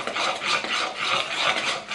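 A utensil rubs and scrapes as vanilla is mixed into a thick homemade Christmas candy mixture. The strokes are close and rhythmic, in a soft rasping pattern with no voices.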